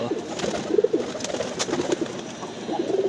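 Pigeons in a sky pigeon loft cooing in soft repeated throaty phrases, several birds overlapping close by, steady and moderately loud with light background rustle.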